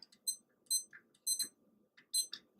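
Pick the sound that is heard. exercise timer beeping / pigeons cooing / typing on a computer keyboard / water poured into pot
exercise timer beeping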